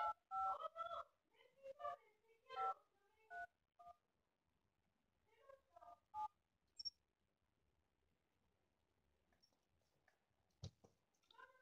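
Quiet telephone dialing tones sound as a quick series of short beeps, then a pause and a second shorter burst of key tones, with faint clicks and a few soft sounds between them.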